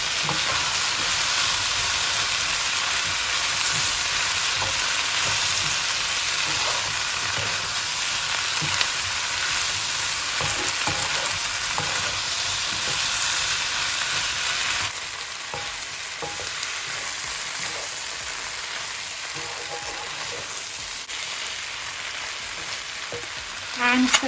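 Curry base for a cauliflower, chickpea and potato curry, just salted, sizzling and being stirred in a frying pan, a continuous loud hiss with spatula scrapes, easing slightly in the second half.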